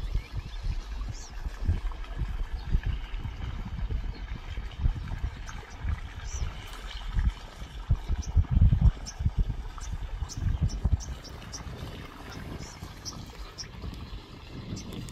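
Water gushes from a 5,000-litre tanker pulled by a tractor into a pond for wildlife, a continuous low, rushing churn that swells in the middle, with faint talk in the background.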